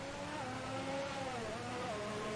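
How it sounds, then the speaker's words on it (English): A Ferrari Formula 1 car in F1 2019 at the Australian Grand Prix, a faint, steady high engine whine whose pitch rises and dips as the car approaches, heard alone. "All right, we got a Ferrari coming."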